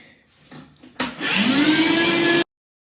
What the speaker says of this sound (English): use a vacuum cleaner to just suck out any kind of dust and debris.